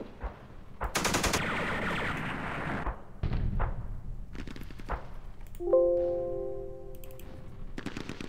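Video game gunfire from an Israeli Defense Forces raid on Jordan in 1968, with a long machine-gun burst, several sharp separate shots and thuds, and a ringing metallic tone in between.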